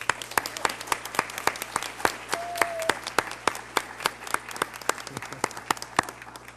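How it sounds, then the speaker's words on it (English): Sparse, distinct claps from a small audience at a board of education meeting ring out in a steady rhythm, with a quiet room hum underneath. "Let's give Ms. Jacobs a great round of applause for her leadership."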